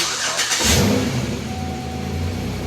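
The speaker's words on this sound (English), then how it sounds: "that's the sound of a mean-ass Chevy engine" A powerful Chevy engine fires up with a loud roar, then settles into a deep, rumbling rev close by, with no talking.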